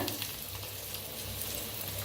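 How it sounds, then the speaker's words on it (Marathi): Garlic and red chili tempering in hot oil, a dense continuous sizzle and crackle that stays close and even with no voices. "आता गॅस करूया बंद, मस्त फोडणी बसलेली आहे।"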